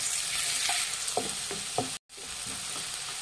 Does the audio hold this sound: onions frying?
yes